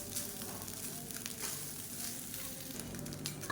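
Cooked rice with banana is mixed and warmed in a hot pan, giving a soft, continuous sizzle with faint scraping from stirring, close but quiet, with no one talking.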